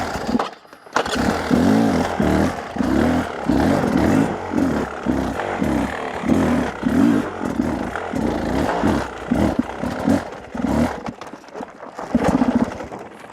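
An enduro motorcycle engine revving in a rapid series of loud, close bursts, each throttle blip rising and falling in quick rhythm over rough terrain.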